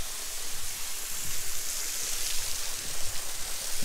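Waterfall at Camp Ondessonk, heard as a steady broadband rush of falling water with a soft, even hiss throughout, fairly close and with no talking.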